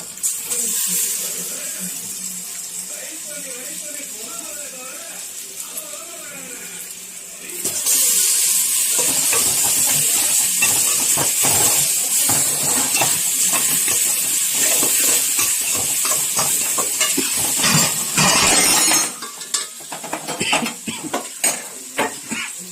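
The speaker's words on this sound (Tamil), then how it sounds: "பின்பு அலசி வைத்த கறியை போட்டுக்கவும்" Washed chicken pieces hit hot oil in a pan for a home-cooked salted chicken dish: a soft lead-in gives way to loud, steady sizzling and frying. The spatula scrapes and clinks against the pan as the meat is stirred, and the noise eases near the end.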